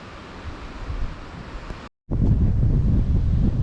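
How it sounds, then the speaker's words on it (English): Strong coastal wind on an exposed clifftop walk above the ocean, buffeting the microphone in a continuous rough roar that drops out for a moment and then returns even louder. "Very windy."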